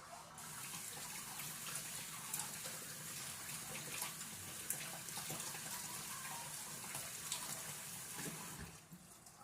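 Tap water runs steadily into a sink while potatoes are rinsed for a from-scratch beef stew, a continuous close splashing rush with faint clinks, easing off at the end.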